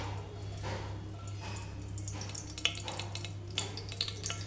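GRB ghee heats in a cooking pan with a soft, steady low sizzle and a few faint clinks and crackles, quiet and close, with a constant low hum underneath.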